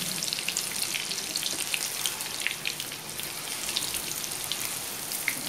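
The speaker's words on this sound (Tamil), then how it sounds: "நல்லா சிக்கன் நல்லா ஃப்ரை ஆகிடுச்சு." Chicken 65 pieces deep-frying in hot oil give a steady, dense crackle and sizzle with scattered sharper pops, fairly close and continuous throughout, with no talking.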